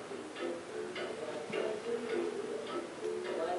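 A wall clock above the fridge in a historic home kitchen ticks steadily and softly, a regular beat of faint clicks running through the whole stretch with no voices.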